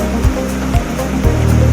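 Water rushing over the Rishia dam in a forest setting, a steady loud roar with a few low thumping surges, with no voices.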